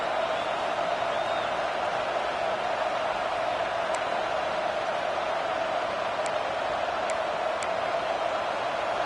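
A football stadium crowd roars on a big third down, a dense steady wall of cheering and noise that holds loud and unbroken throughout, with a few faint whistles above it.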